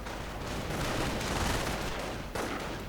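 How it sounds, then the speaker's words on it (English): Sustained gunfire crackles and rattles without letup in a World War II strategy video game, a dense wall of shots and distant artillery from a machine gun barrage with no voices over it. "Robin here exposed to intense machine gun fire."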